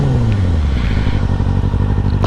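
Motorcycle engine heard from inside a Sedici Strada Primo 2 helmet while riding, a loud steady drone with a falling pitch as the bike slows, over a slight rush of wind.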